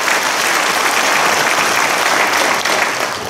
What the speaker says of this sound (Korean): 수고하셨다고 큰 박수 한번 주십시오.